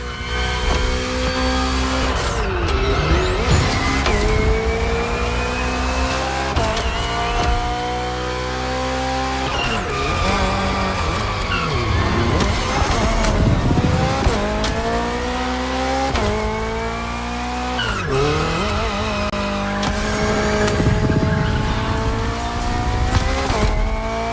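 A BMW hybrid V8 race car in The Crew Motorfest screams through a race, its engine climbing and dropping through repeated gear shifts with brief tire squeals, loud and continuous with no talk.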